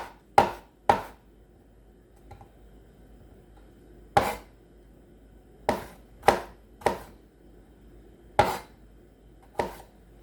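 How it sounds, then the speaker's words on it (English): A knife chops through sliced vegetable pieces on a cutting board to make uniform shreds, producing sharp, distinct thwacks in irregular bursts, close and clear against a quiet background. "we'll take the sliced pieces and we'll slice it again"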